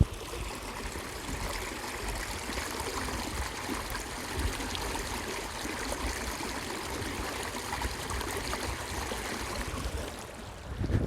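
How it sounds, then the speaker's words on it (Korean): Water of the Anyangcheon stream flowing outdoors, heard as a continuous, even rushing and babbling that holds steady the whole time, with no voices. "물소리 들리시나요?"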